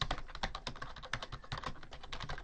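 Quick, irregular clicking of keys on a computer keyboard, a steady run of close, fairly quiet keystrokes with no talking.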